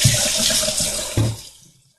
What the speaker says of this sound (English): And we're going to rinse thoroughly with water.